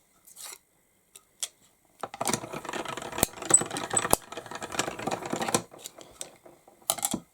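A die-cutting machine rolls through once, cutting paired strawberry-shaped craft pieces: a few scattered clicks, then a few seconds of steady clattering, rattling mechanical noise, close and moderately loud, ending with a couple of sharp clicks.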